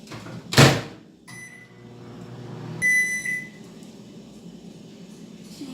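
A microwave oven running with a low steady hum while heating caramel sauce in a mug for a mug pudding, with a door clunk near the start and a brief beep around the middle.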